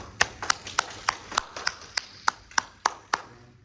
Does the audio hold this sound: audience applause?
yes